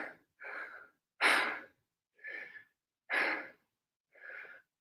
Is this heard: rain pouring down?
no